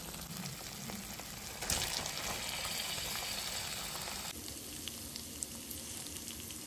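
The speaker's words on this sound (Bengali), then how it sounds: "এবার আমি ভাজা পটল আর আলুটার মতো দিয়ে দেবো" Fried pointed gourd and potato hit a pan of cooked spice paste and sizzle steadily for several seconds, with some clattering stirring, close to the pan and with no talk over it.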